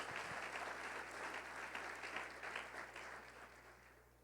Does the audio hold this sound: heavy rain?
no